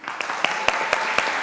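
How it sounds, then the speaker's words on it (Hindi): Studio audience applause on a Pakistani comedy talk show, a steady wash of clapping with a few sharper claps standing out, moderately loud and continuous for a brief moment. "तालियां।"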